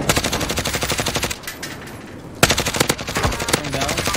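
Rapid automatic gunfire from the game Warzone rattles in fast, evenly spaced bursts, breaks off for about a second, then resumes with a sharp loud crack followed by more quick shots.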